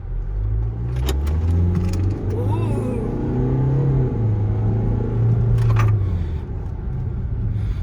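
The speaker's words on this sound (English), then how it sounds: "Whack it in drive, handbrakes off, and then just pump the accelerator and see what happens." Range Rover Evoque 2.0 TDi diesel, remapped, pulling away in drive with a deep rising engine rumble and revs that climb and fall, heard from inside the cabin with a few clicks and jangles.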